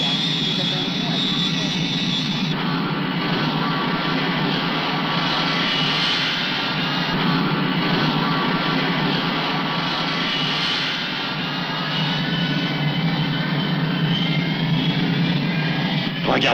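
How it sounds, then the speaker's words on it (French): Airplane engines roar steadily during takeoff, a loud sustained drone with a faint voice under it. "643, autorisation d'alignement et décollage, bien sûr."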